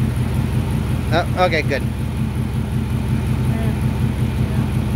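A 4.6 Mustang GT with a Pi head swap idles steadily up close, a low, even rumble that holds the whole time while someone speaks a few brief words over it.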